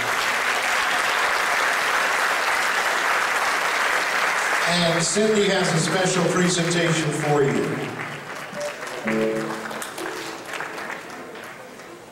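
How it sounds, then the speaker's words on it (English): Audience applause at a live party band show, a sustained dense clapping that swells midway and tapers off toward the end, with speech from the stage over it. "Please welcome her with a round of applause."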